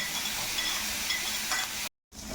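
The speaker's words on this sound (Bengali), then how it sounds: "পেঁয়াজটা একটু নাড়াচাড়া করে ওর মধ্যে এখানে আমি 1 চামচ আদা কুচি, 1 চামচ রসুন কুচি দিয়ে দেবো" Chopped onion being stirred and fried in a pan with chopped ginger and garlic, a steady close sizzle with scraping stirs throughout, cut by a brief silent gap near the end.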